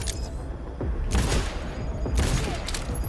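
SMG gunfire rattles in short bursts during Cyberpunk 2077 combat, close and loud over a busy game soundscape, with two denser volleys standing out.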